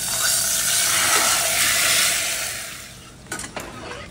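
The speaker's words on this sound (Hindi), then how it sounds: "अब इस तड़का को हम सूप के साथ ऐड करेंगे" Loud, steady sizzling hiss as a hot ghee tempering with cumin hits soup, gradually fading, followed by a couple of sharp clinks near the end.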